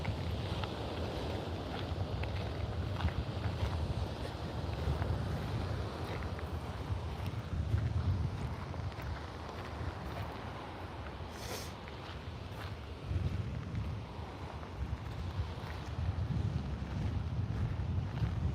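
Strong wind buffets across an open beach in Melbourne, a steady loud rumbling roar with gusty swells and faint surf underneath, continuous throughout.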